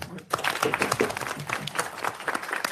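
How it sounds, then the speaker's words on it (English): Audience clapping at a committee meeting, a modest round of applause from a small room, fairly close and steady, with voices mixed in. "Another round of applause for Sean."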